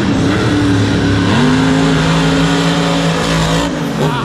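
A monster truck engine roars at Monster Jam in MetLife Stadium in 2019. The sound is a loud, continuous, close drone that steps up in pitch partway through and carries no clear separate pops.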